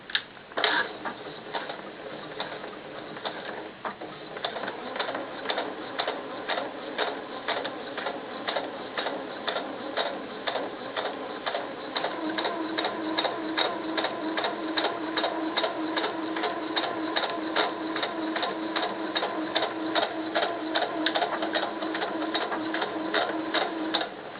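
A sewing machine stitches a seam on small doll pants with a fast, even mechanical clatter, fairly quiet and close, running without a break and slightly steadier and louder in the second half.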